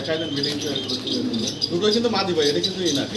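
A pair of Roman gal pigeons cooing close by in a pigeon farm, soft repeated coos and a few chirps mixed under steady talking.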